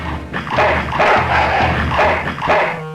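Dogs bark and yip in the Full Throttle adventure game at a junkyard, a loud cluster of repeated barks filling the short stretch with no talk over them.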